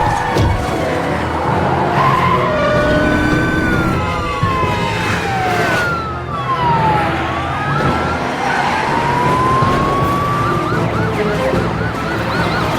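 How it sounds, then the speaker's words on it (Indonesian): Car chase in an action film: tyres skid and squeal in long sliding and falling tones over a roaring engine, with siren-like wails weaving through. The sound stays loud and continuous, and no one speaks. "Sergei segera menancapkan gasnya untuk segera pergi dari sana. Aksi kejar-kejaran pun terjadi di antara mereka."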